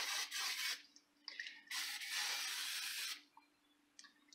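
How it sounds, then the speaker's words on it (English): Two bursts of close cooking-spray aerosol hiss onto a pan, roughly a second each, with short spritzes and quiet gaps between them. "I'm gonna take some of this and I'm gonna spray this pan"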